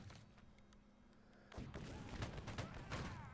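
Musket volleys from line infantry in the Age of Napoleon game during a large Waterloo line battle; quiet at first, then from about halfway a dense burst of overlapping gunfire cracks and booms, loud and close.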